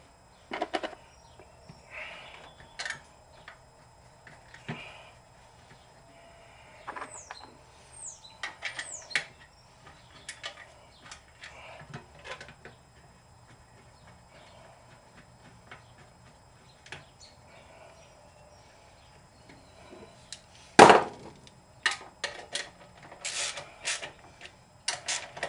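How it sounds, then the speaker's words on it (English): Bolts being put back on a Chinese 2-cycle generator give scattered metallic clicks, taps and ratcheting clatter in a quiet room, with one loud clank near the end. "We'll go ahead and put these two bolts back in this side."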